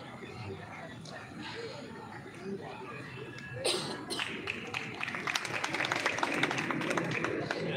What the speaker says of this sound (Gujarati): તાળીઓથી આપણે વધાવીએ એમને